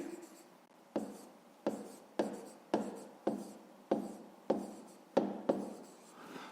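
A pen writing out a fifth-grade math solution on paper, heard as a steady series of about nine distinct close scratchy strokes, each starting sharply and trailing off, with no voice over them.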